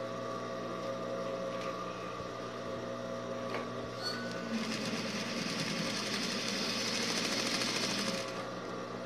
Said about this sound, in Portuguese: Aqui onde eu vou passar a costura.